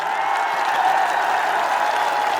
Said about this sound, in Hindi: इतनी कमजोर ताली से काम नहीं चलेगा।